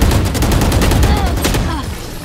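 Close, loud rapid gunfire rattles through a Valorant match, a dense continuous burst of shots that fades slightly toward the end.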